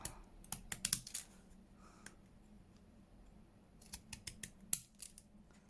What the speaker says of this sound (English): Concentration with the zigzag scissors.